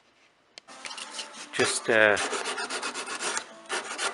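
Coarse 60-grit sandpaper rasps over the edges of a wooden subwoofer grille in short, uneven scraping strokes, with a voice speaking briefly partway through.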